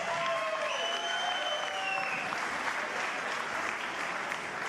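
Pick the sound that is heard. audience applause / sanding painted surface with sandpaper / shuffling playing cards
audience applause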